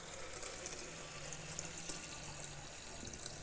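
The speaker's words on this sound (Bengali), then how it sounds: "এই যে গরম জল আমি এর মধ্যে অ্যাড করে দিচ্ছি।" Hot water poured into a pot of cooking dal, a faint steady splashing stream running for a few seconds, soft and fairly distant.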